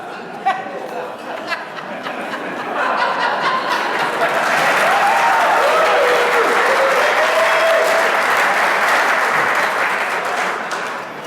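Audience applause at a high school hall of fame induction ceremony, starting with a few scattered claps and swelling into steady, sustained clapping from a large crowd, with some chatter mixed in.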